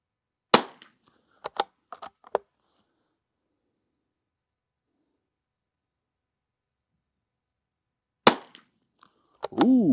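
A Ruger American Ranch Rifle fires a five-round string: sharp, loud cracks in quick succession with brief clicks between them, then a long quiet gap before a couple more sharp reports and a short voice at the very end.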